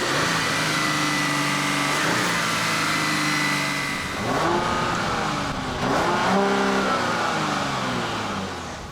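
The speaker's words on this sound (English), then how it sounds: "and a nice sounding engine as well." A Genesis GV80 engine rated at 375 horsepower revs hard, climbing in repeated sweeping surges with shifts in between, loud and close, with no talk.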